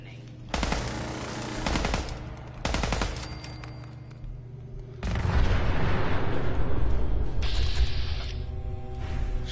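The Shredder minigun in Fallout 4 fires two loud sustained bursts, then a longer continuous roaring stream of rapid gunfire joined by explosion-like booms, close and dense throughout.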